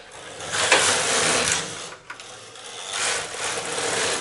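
A knitting machine carriage pushed across the needle bed to knit 1x1 rib rows, a loud mechanical clattering rush in two passes with a brief pause between them.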